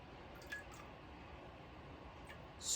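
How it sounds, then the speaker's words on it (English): Thyme tea strained through cheesecloth into a coffee cup gives a steady soft hiss of pouring and dripping liquid, close and faint, with a slight splash swelling at the end. "we're just going to pour it into the coffee cup"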